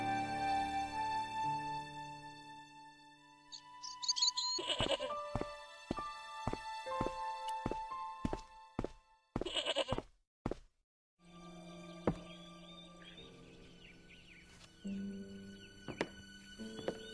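A tethered goat bleats in the Irish castle scene of the video game Broken Sword: Shadow of the Templars, several wavering cries set among game music and sound effects, with a voice narrating in between.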